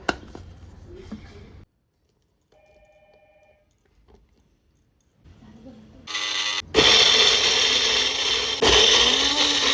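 An electric kitchen mixer grinds chillies and spices into a masala for fried fish, roaring loudly in sharp bursts after a quiet stretch of handling clicks.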